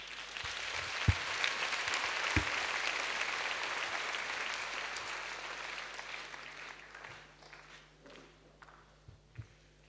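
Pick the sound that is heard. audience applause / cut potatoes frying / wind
audience applause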